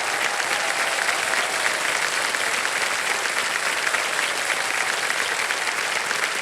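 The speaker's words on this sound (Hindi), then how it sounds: "ताली बजती रहे, ताली बजती रहे इनके लिए।" Steady, dense applause from a studio audience on the KBC quiz show, loud and continuous with no break across the whole stretch, following a contestant's winning answer.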